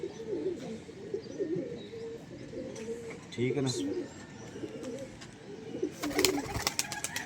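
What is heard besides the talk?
pigeons cooing on a rooftop loft in Lahore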